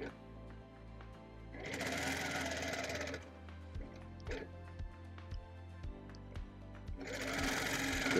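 A sewing machine stitches in the ditch of a Celtic wedding ring quilt, a steady whirring run, then a series of short separate stitch bursts and thumps, then a second steady run, close and clear.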